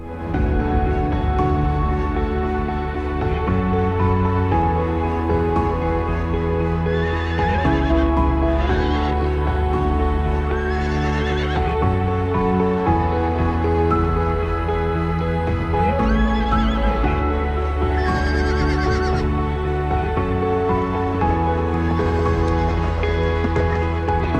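Horses neigh and whinny repeatedly over a dense, continuous layer of background music, with hoof clip-clop mixed in; the calls rise above the music several times throughout.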